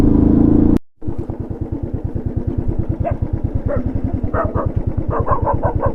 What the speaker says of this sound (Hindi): बाइक है ना, मतलब थर्ड गियर में भी नहीं चढ़ पा रही है।